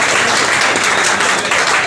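A crowd at a Congress Minority Cell membership gathering in Bhiwandi claps loudly to welcome leader MM Shaikh, a thick continuous burst of many hands lasting just under two seconds.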